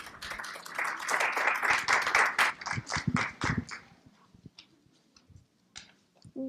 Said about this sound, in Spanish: demos un fuerte aplauso a Álvaro García Manrique para la charla.